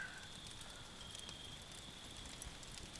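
Firewood crackles in a fire, with soft scattered pops over a steady low hiss. It stays quiet throughout and no one speaks.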